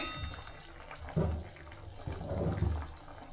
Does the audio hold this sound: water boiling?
yes